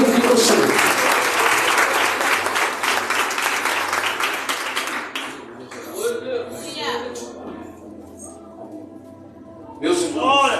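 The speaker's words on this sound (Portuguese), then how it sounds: "e as palmas que glorificam o Senhor" A church congregation claps together in praise, loud dense applause for about five seconds, then fading into a pause with someone speaking, followed by a short burst of voices and clapping.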